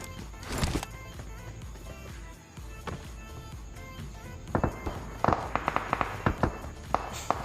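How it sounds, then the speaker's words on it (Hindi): Gunfire in a battle royale mobile game, scattered sharp cracks and pops at varying distances, a cluster early, then a rapid burst of shots near the end over a low background hum. "सामने से एक बंदे की और फायरिंग के साउंड आते हैं भाई"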